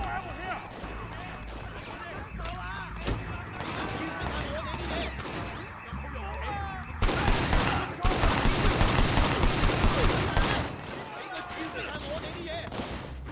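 Gunfire in the video game Sleeping Dogs, rapid overlapping shots in dense bursts that grow louder in the middle stretch, mixed with game sound effects and a voice talking over it.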